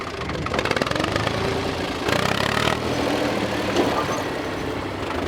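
A tractor engine rumbles loud and close, revving up and settling into a rough, steady running chug with some knocking, surging briefly in the middle as farm machinery is prepared for sowing.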